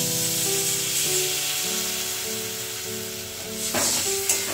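Water poured onto fried spices in a pan for a fish curry, a loud steady sizzle and hiss with a sharper burst of spattering near the end, close up, no voices.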